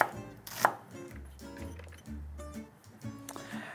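Half an onion chopped with a knife on a cutting board, a quiet series of dull thuds in an irregular rhythm, close up, with no talking.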